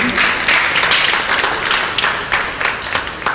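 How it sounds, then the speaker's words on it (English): An audience at a design talk breaks into applause, a dense crowd of handclaps that swells and then thins out, with a few distinct louder claps standing out toward the end. "definitely deserves a big round of applause"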